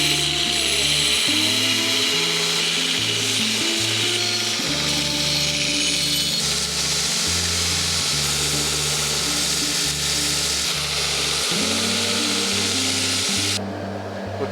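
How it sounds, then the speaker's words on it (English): Grinder works the flat face of a forged steel axe head in a continuous, loud, harsh whine for the full stretch, its pitch shifting a little as pressure changes. "I'm just going to grind this flat surface right here so we can do the stamps"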